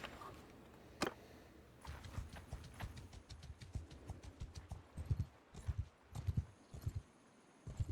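Steppe horses in Mount & Blade II: Bannerlord walking with steady clip-clop hoofbeats, a brisk rhythmic clatter that thickens as several hooves overlap, clear and moderately close.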